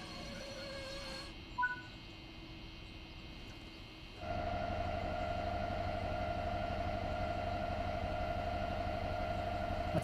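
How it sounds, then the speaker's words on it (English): A steady mechanical drone kicks in and runs continuously, a train's air compressor humming low over faint background noise in a video game, after a brief quieter stretch with a short tone. "That sounds like a compressor."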